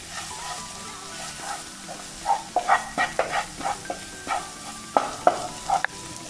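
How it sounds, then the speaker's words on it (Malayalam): Onion and masala frying in a pan, a soft sizzle beneath repeated sharp scrapes and clinks of a spoon stirring against the metal, with a faint tonal hum in the background. "ഇനി ഇതിൻ്റെ ആ പച്ചമണമൊക്കെ ഒന്ന് മാറുന്ന വരെ നമുക്കിതൊന്ന് വഴറ്റി കൊടുക്കാം"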